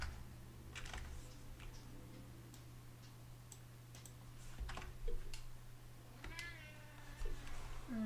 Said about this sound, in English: And the cat has arrived.